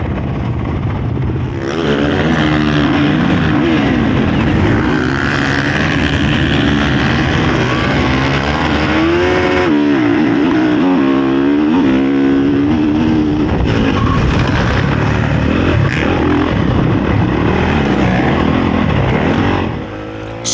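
A motocross bike idles, then roars hard through a practice start on a hilly sand track, the engine loud and close and revving steadily for about twenty seconds.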